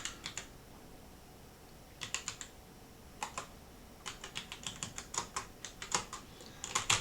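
A username being typed on a computer keyboard, with quiet, close key clicks in short irregular clusters separated by pauses, growing denser toward the end, and no talking.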